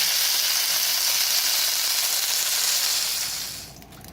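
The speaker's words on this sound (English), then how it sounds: "Sizzling chicken." Loud, steady frying sizzle of chicken in a hot pan, a dense crackling hiss that fades out near the end.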